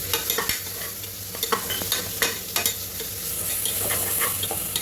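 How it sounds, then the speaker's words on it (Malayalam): Onions and shallot paste are stirred while they fry for a mushroom biryani, with a steady sizzle under repeated scraping and clattering spoon strokes against the pan, close and continuous. "ഇളക്കുക, നല്ല ഇളക്കിയിട്ടേ ഇരിക്കുക."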